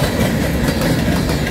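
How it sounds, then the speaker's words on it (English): A long freight train of about 150 cars, led by CN ES44DC and C44-9W locomotives, rolls past close by, its continuous loud rumble and rattling wheels filling the whole stretch. "This has got to be at least 150 car train."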